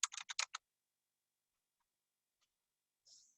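Quick bursts of keystrokes on a computer keyboard, about six sharp taps in half a second, then near silence with a faint click later. A close, quiet recording.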